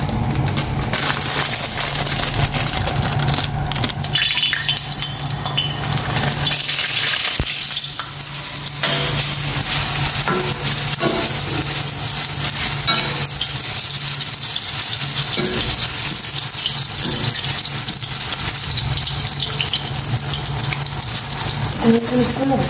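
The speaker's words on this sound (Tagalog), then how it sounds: "Painit na po ako ng kawali ng mantika. Ilalagay ko na po yung seafood." Seafood drops into a pan of hot cooking oil and sizzles loudly and steadily throughout, with stirring and scraping clatter over the constant frying hiss.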